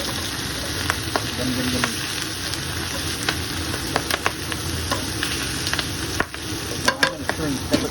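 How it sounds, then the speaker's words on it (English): Spinach sizzles as it wilts in a hot pan for palak paneer, a steady frying hiss broken by sharp scraping clicks of a utensil stirring, with a voice briefly murmuring. "So I'm going to get this wilting. Stir it in there."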